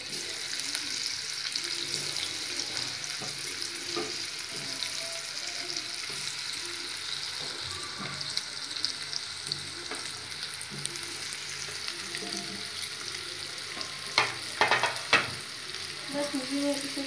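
Pieces of yam shallow frying in hot mustard oil give a continuous, close sizzle, with occasional stirring clinks and scrapes in the pan.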